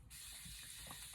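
Brief, close hiss of a small spray bottle misting water onto a makeup sponge, a short steady burst of fine spray.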